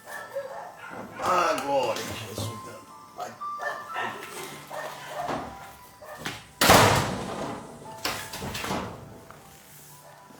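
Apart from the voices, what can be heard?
dogs barking outside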